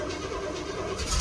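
A 1969 Pontiac Trans Am's engine idles through a factory-style rear exhaust, a steady, fairly quiet rumble with a slight rise in hiss near the end.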